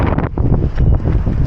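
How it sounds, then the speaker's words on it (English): Strong gusty wind from Storm Bert buffets the microphone in loud low rumbling bursts, the roar rising and falling continuously with no voices heard. "it is very, very windy"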